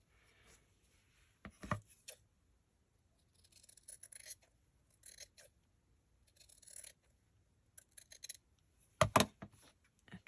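Scissors cutting paper for journal pages, scattered short snips and crisp slicing bursts separated by quiet gaps, close and soft, with a couple of louder rustles and no talking.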